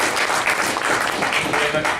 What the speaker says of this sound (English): can I ask a big round of applause to welcome my colleague Yanik Hoyles.